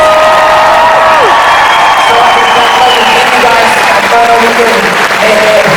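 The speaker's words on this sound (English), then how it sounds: "Can we have the biggest round of applause?" Convention crowd at an MCM event applauding loudly and steadily after a guest panel, with cheers and whoops rising over the clapping and voices calling out through it.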